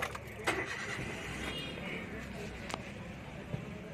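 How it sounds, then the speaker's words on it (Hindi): A new car's engine is started with the key, giving a brief crank and a mid-level engine sound at moderate distance amid faint clicks and background noise. "फटाक से बस अब एक बार हम गाड़ी की चाबी लगा के स्टार्ट करके छोड़ देंगे"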